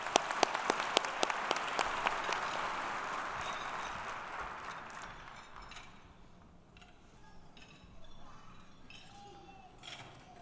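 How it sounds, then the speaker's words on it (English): Audience applause at a police department awards ceremony, a dense round of clapping that starts loud with sharp claps, then thins and fades to scattered claps and quiet room noise. "One more round of applause."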